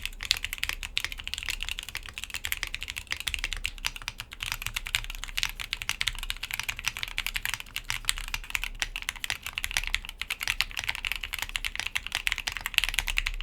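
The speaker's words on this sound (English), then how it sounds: "So the foamless configuration isn't bad." Rapid, steady typing on an Epomaker High65 V2 mechanical keyboard in its foamless build, a dense clatter of keystrokes running without pause, close and fairly loud, with no voices.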